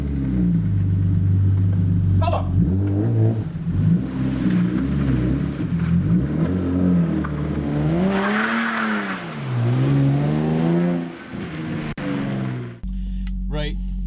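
A Lexus IS200 engine rumbles and revs up and down close by during a drift test, with a rising and falling rev sweep, faint tire scrub and brief knocks, and people talking over it.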